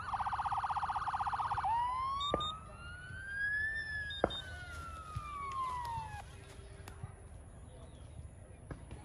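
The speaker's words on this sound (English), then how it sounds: "You can see that a lot of sirens are available in here." Siren alarm from a forest monitoring and deforestation control system triggered by smoke detection, rising and falling in loud electronic sweeps after a steady tone, with background murmur.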